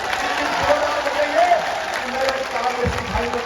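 A crowd at a public rally in Machalpur applauds with steady clapping throughout, and a voice talks loudly over it.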